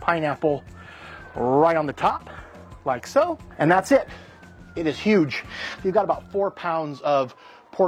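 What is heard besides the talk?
No everyday noises stand out.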